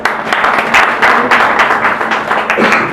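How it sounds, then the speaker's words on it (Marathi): An audience at a Dhamma conference honouring donors in Badlapur claps by hand in uneven bursts, loud and close, the rhythm of the clapping swelling and dipping throughout. "सगळ्यांनी टाळ्या वाजवायच्या."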